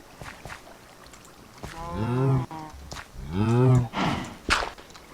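Cattle in the game Minecraft give two drawn-out, tonal moos in quick succession, loud and close, with a few clicks and game noises around them.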